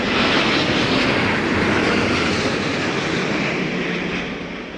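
A jet airliner at London Heathrow in Storm Darragh winds gives a steady, loud broadband roar with wind rush, holding strong throughout and easing slightly toward the end, with no talk.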